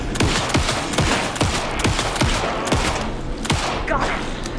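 Rapid gunfire in the video game Alan Wake 2, with a steady run of loud, closely spaced shots over a thick, continuous wash of game noise.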